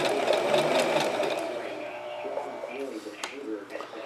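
A sewing machine stitches hems on fabric, running steadily and strongest in the first second and a half, then fading to a lighter hum. A voice talks over much of the stitching.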